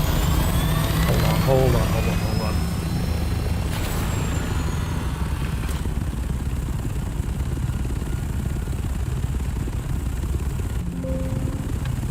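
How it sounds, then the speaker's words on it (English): In the video game Dune Awakening, a vehicle engine drones loudly and continuously with a broad rumbling roar, some rising whines early on, while a voice speaks briefly. "that engine noise is still kind of crazy"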